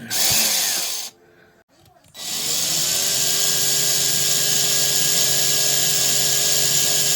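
A power drill backs a screw out of a modern Hot Wheels toy car, a loud close whine that stops briefly near the start and then holds a steady high drone to the end, with no talking.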